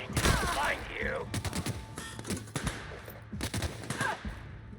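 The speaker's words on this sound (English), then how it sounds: "Who's shooting me?" Marauders fire on the player in The Outer Worlds, a string of sharp gunshots and short volleys at moderate loudness with the player's voice talking over part of it.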